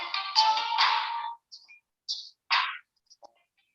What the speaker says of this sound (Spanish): Voy a apagar mi teléfono, así no me molesto más.